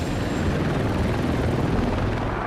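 Loud, close thrumming rotor noise of a Marine One presidential helicopter in flight, dense low-frequency chop sustained through the whole moment.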